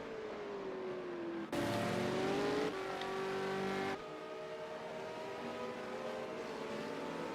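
A V8 Supercar engine at full throttle in a racing video game set at Bathurst's Mount Panorama, a loud continuous roar that climbs in pitch, briefly shifts, then holds steady without pause.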